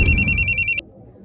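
An electronic telephone ring trills in a rapid, pulsing burst lasting under a second, loud and close, then stops abruptly. Faint background rumble follows, and no one speaks.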